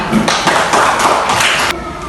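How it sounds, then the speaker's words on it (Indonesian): Schoolchildren clap their hands in a classroom, a short burst of quick, uneven claps close by that stops abruptly near the end. "Tepuk tangan dulu sekarang"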